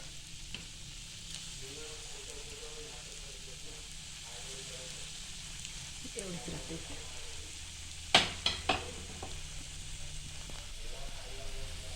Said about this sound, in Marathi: बारीक गॅसवर आपण त्यांना फ्राय करून घेतो